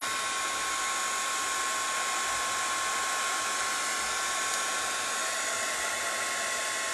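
A heat tool on its lowest setting, blowing hot air to melt embossing powder on a card, with a steady, loud, continuous whir and a faint high whine that lasts the whole time, no voices.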